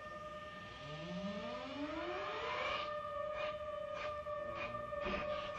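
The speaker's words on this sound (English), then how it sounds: "Sounds of a high-speed camera." High-speed cameras spin up ahead of a 5-segment solid rocket motor test firing for the Ares I rocket, a rising mechanical whine climbing in pitch and settling into steady high tones with faint rhythmic pulses, no talk.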